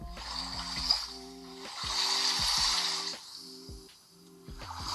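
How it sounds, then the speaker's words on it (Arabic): Ocean ambience from a study app's sound mode plays as a steady, hissing wash of surf that swells and recedes, with a low mechanical clicking pattern running through it. "فمثلا اوشن، احنا عايزين نحس ان احنا جنب محيط او جنب بحيره وبنذاكر، فهنعمل ستارت."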